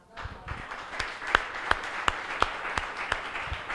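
A church congregation claps in a sparse, fairly quiet and evenly spaced rhythm, a handful of distinct claps over a low room background.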